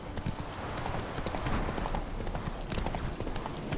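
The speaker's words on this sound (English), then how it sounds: "Oh, God, is the horse still freaking out?" Horse hooves clip-clopping in the video game The Witcher 3, a brisk continuous patter of hoofbeats with faint background noise; a whinny is not clearly evident.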